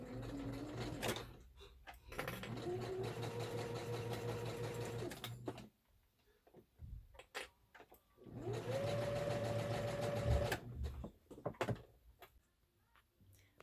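A sewing machine stitches a stuffed fabric bear in two long bursts of steady whirring that wind up to speed, each separated by a pause with small handling clicks and shuffles.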